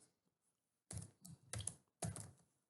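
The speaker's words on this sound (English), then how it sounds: "you can type in your name" Computer keyboard typing in three short bursts of rapid keystrokes, close and clear with brief pauses between, used to enter a name into a font preview in Corel Draw; no talking.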